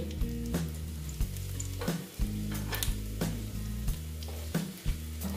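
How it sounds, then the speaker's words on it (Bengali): Dry red chili, bay leaf and white cumin seeds sizzle in hot oil in a pan for banana-flower ghonto, close and continuous with periodic stirring scrapes and a low background hum, no voices. "দিয়ে এটাকে আমি ভালো মতন ভেজে নিচ্ছি"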